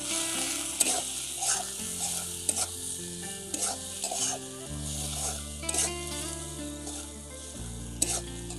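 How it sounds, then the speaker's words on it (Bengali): Chopped onions fry in a pan for a banana-flower dish, with a constant loud sizzle, occasional stirring clicks and a steady hum in the background. "এবার আমি পেঁয়াজ কুচিগুলো একটু ভেজে নেব।"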